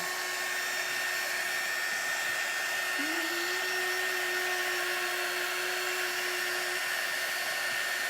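A hair dryer blowing steadily on a thick craft coating, close and constant, with a brief pitch shift partway through.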